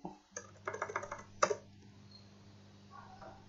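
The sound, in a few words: typing on a computer keyboard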